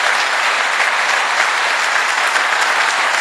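An audience at a training reunion event applauds in a dense, steady burst of clapping that stays loud and even throughout.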